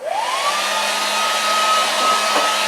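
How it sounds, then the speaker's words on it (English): A hair dryer blows loud and steady at close range, drying a layer of glaze, its whine rising in pitch as it spins up at the start and then holding a constant rushing tone. "I'm going to blow dry this really quick."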